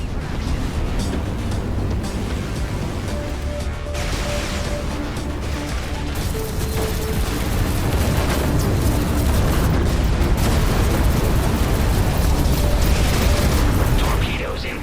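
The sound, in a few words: torpedo barrage explosions in Everspace 2 video game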